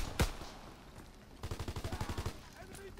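Pistol gunshots in a Star Wars-themed shooter game, one sharp shot followed by a rapid burst of about a dozen quieter shots, with faint game sounds around them.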